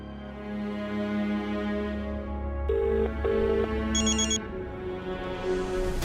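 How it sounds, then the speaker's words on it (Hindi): A telephone rings in short electronic bursts during a call in a home comedy scene, sounding over continuous background music and fairly close. "ज्योति को फोन लगाता हूँ।"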